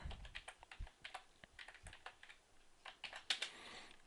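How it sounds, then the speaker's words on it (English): Light, fairly quiet tapping on a computer keyboard, uneven runs of close clicks with short pauses between words. "we're going to type link relation equals style sheet"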